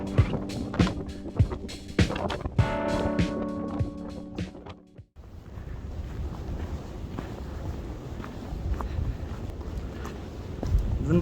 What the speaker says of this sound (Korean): 바람이 많이 불어서 팩이 다 빠졌네